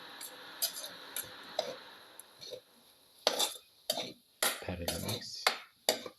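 Shallot, green pepper, coconut and tamarind dip ingredients being mixed thoroughly in a bowl, giving a string of near, irregular clinks and scrapes of utensil against dish, some in quick bursts, with no talk.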